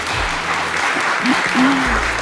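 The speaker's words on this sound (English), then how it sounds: "Give them a round of applause." Steady, dense applause at an official opening event at The Rooms fills the space from start to finish, loud and continuous, with a faint voice briefly audible underneath.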